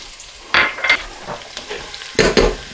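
Onions and garlic hitting hot fat in a pot for New England clam chowder, loud bursts of sizzle and stirring scrapes, two strong surges over a steady crackling hiss.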